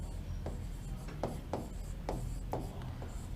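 Handwriting on paper, likely pen strokes, during a Hindi lesson on ozone depletion; steady scratchy strokes recur about every half second against a low background hum, with no talking.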